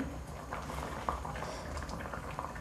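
Water boils hard in a steamer pot beneath a plate set on a sieve, giving a dense, continuous bubbling and hissing that stays even throughout, with no talking.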